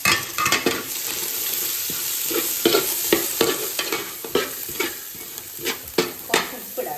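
Onions and green chillies sautéing in a hot pan, with a constant oily sizzle punctuated by repeated scraping strokes of a stirring spoon at an uneven rhythm.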